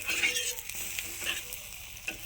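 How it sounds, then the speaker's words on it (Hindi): A malai paratha fries in oil on a pan while being pressed and turned, giving a close, steady sizzle with soft scraping and tapping from the spatula. "देखिए इस तरह से हम सेकेंगे इसको घुमा घुमा कर चारों तरफ।"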